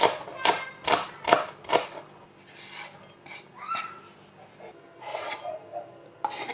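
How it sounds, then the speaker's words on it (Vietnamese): Green onions being chopped on a board, with four quick, crisp knife strokes in a row, then softer scattered cuts and rustling, near and moderately loud without speech. "Có một cái bắt buộc phải cắt, đó là hành lá."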